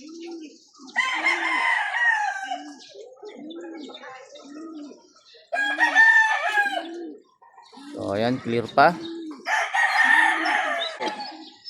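A fighting rooster crows three or four times in long, loud, close calls, separated by pauses and by quieter clucking and cooing, with someone talking briefly between the crows.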